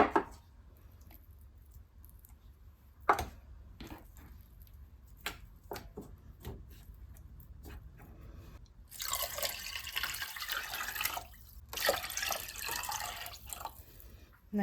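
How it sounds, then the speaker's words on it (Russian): Water poured from a tap into a 3-litre pot holding fatty meat for cabbage soup in a village kitchen: scattered drips and clinks, then two strong rushing bursts of pouring near the end. "Наливаю водички"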